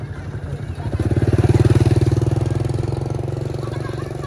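A Suzuki RC 50cc two-stroke motorcycle idles close by, its rapid, even putter swelling briefly after a second and then settling into a steady, slightly uneven beat, with no voices over it.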